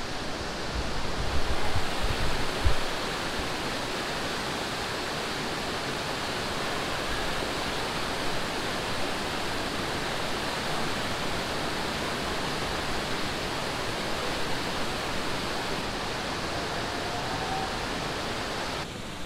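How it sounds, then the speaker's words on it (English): Loud, continuous roar of rushing water, a dense unbroken wash of sound like a torrent pouring through a narrow rocky channel, in the Sigmund Thun Klamm mountain gorge at Kaprun, Austria. "you can hear the water roaring"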